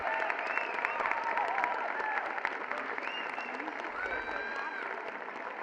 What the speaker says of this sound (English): if I can have everyone give all of our amazing students and teachers a huge round of applause.